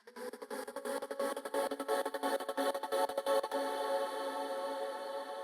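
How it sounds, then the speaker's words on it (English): Vocal in an FL Studio liquid drum and bass track run through an LFO Tool trancegate, the sustained tone chopped into a fast rhythmic stutter of pulses that later smooths into a steadier held sound. "I've added an LFO tool onto this vocal, which has got transgate on it, makes it sound like this."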